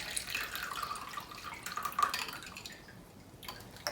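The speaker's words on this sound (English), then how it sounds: "now I'm going to be draining the water" Soaking water drained off rice, a steady close trickle and splashing of liquid with small drips, fairly even throughout and fading slightly near the end, no talking.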